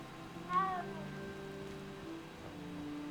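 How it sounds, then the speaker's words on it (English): Cat in the video game Hogwarts Legacy gives a single short, oddly pitched meow, followed by a quieter trailing tone over soft ambient game sound. "That was a fucking weird ass sounding cat."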